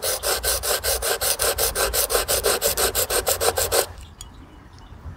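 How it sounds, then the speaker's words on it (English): A palm sander on a model vehicle part gives a close, loud, rhythmic rasping in rapid regular strokes for about four seconds, then stops, leaving quiet room noise. "I think I'm going to hit this with the palm sander"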